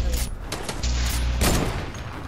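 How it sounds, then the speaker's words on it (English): Rapid bursts of gunfire from a Fortnite match crackle loud and dense across the whole stretch, with a sharper blast near the middle, under faint background game noise. "Bro, quit shooting me down"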